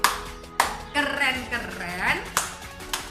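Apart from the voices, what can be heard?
rhythmic 'tepuk kagum' clap by class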